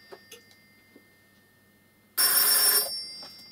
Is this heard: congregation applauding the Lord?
no